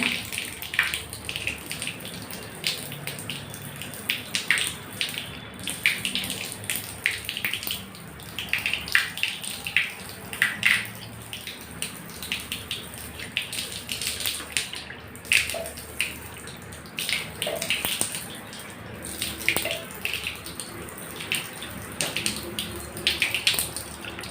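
Tap water runs continuously while washed dishes are rinsed, with splashing and occasional clinks of vessels throughout.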